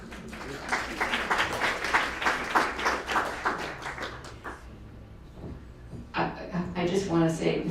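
Audience applause at a League of Women Voters luncheon following a poetry reading, a sustained patter of many hands clapping for several seconds, then tapering and briefly swelling again, with talk and room noise mixed in.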